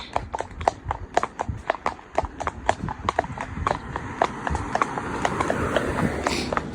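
Cob horse hooves clip-clop in a steady walking rhythm on a hard surface during a ride out, close by, with faint background noise.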